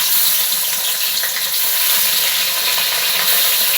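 Pieces of fish, rubbed with salt and turmeric, sizzle in hot oil in a pan for Bengali fish curry, a loud, continuous close frying hiss with no talk.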